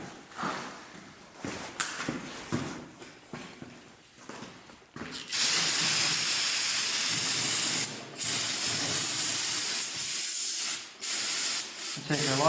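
Brake cleaner sprays in a loud, steady aerosol hiss over a rusty 6.0L LQ4 engine, starting about midway and running in long bursts with brief pauses, after quieter clicks and handling noises at the start.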